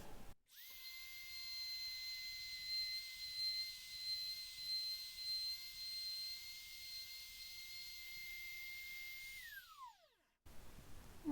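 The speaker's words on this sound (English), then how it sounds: "And so we're going to route this out." A wood router cutting a shallow hinge recess into a hope chest, a loud high-pitched steady whine that holds for about nine seconds before spinning down sharply, close up with no voices.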